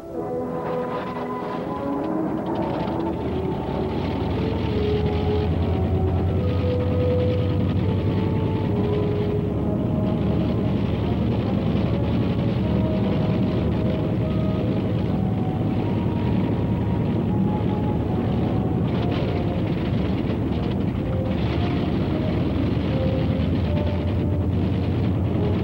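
Aircraft engines starting in archival wartime film: a low droning roar builds over the first seconds and then holds steady and loud, with shifting tonal engine hum throughout and no voices.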